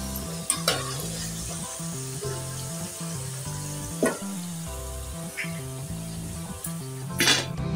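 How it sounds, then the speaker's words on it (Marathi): Motichoor laddu dough balls roast in a pan with a soft continuous sizzle, broken by occasional metallic clinks of a spoon against the pan, over a steady tonal background. "हे बघा अशा तऱ्हेने सर्व भाजून घ्यायचं आहे। हे गोळे हे बघा"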